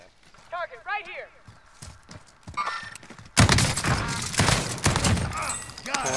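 A shotgun blast in Call of Duty Warzone, a sharp, loud burst cutting in partway through amid gunfire and game noise, with voices talking beforehand.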